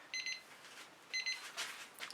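A timer alarm goes off with bursts of rapid high electronic beeping, two clear repeated groups close by, alone without talk.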